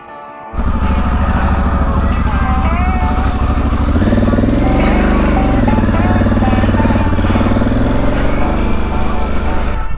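Motorcycles fire up and rumble loudly close by, engines settling into a steady idle and then rising as the touring bikes on a wet camping trip pull away, with voices underneath.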